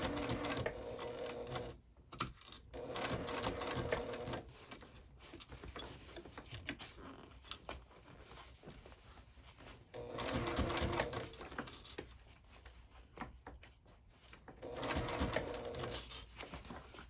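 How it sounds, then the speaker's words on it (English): Sewing machine stitching a handbag in short bursts, a close, rapid rattling run, then a pause with fabric handling and soft clicks, then another burst. "I'm just taking a couple stitches and then resituating and flattening it all out."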